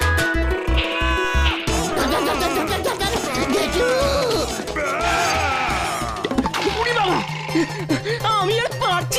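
A cartoon goat bleats in a loud series of wavering cries, mixed with animated character voices talking over background music.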